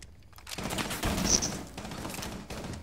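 Bursts of rapid gunfire come from a Rainbow Six Siege match, a short fusillade of shots at moderate distance over game background noise, fairly faint overall.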